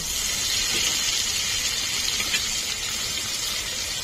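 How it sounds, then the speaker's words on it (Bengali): Chopped onion and tomato frying in a pan, cooked for a village-style mutton curry, producing a steady, dense sizzling hiss that stays close and constant throughout. "পেঁয়াজ আর টমেটোটা ভালো করে ভেজে নেব।"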